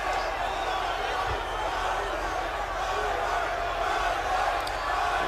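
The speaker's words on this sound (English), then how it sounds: "We do have a live crowd here" Steady, dense crowd noise from a large live audience at a fight, a constant roar of murmuring and shouting with a few faint thumps underneath.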